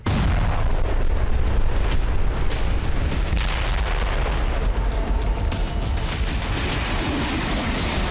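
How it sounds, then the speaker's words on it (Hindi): Heavy artillery shelling in Lebanon during fighting between Israel and Hezbollah, a dense continuous roar of booms and rumbling blasts, loud and sustained throughout with no clear gaps between impacts. "भीषण गोलाबारी से धक्का लेबनान।"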